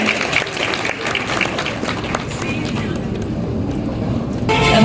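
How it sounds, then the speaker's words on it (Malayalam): Audience applause for guests at a Meitra Hospital event in Kerala, a steady, dense clapping that carries on throughout and swells slightly louder near the end. "നല്ലൊരു കൈയടി കൊടുക്കാം ഒരിക്കൽ കൂടെ"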